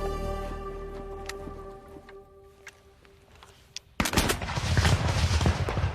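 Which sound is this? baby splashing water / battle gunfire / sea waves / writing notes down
battle gunfire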